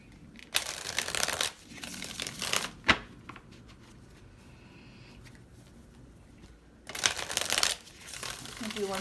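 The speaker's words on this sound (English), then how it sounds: "do one more shuffle." Tarot cards are shuffled in several quick riffling bursts, close and crisp, separated by quiet pauses with faint soft handling sounds.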